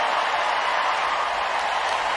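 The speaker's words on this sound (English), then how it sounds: "the New York crowd getting fired up" A New York crowd at a 2022 US Open tennis match cheers and claps in a steady, even roar that fills the short stretch without a break.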